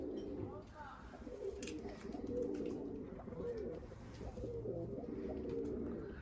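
Nearby tumbler pigeons, play birds including a four-year-old blue male, coo in low rolling phrases, steady and fairly faint, over a soft outdoor background murmur.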